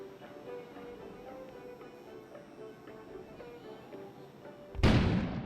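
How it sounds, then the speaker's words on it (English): In the video game Kona, a sudden explosion bursts outside near the end, a loud, broad boom that follows a quiet stretch of faint ambient game sound and then fades. "An explosion suddenly occurred outside."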